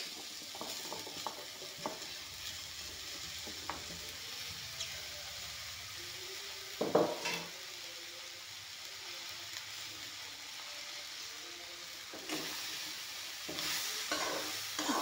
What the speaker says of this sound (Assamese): এতিয়া বেঙেনা মটৰখিনি ধুনীয়াকৈ ভাজি ল'লোঁ।